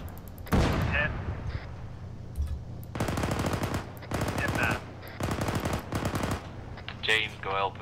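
Machine gun fire rattles through a video game battle, with several long sustained bursts separated by short pauses and a few single shots, loud and close, with brief voices in between.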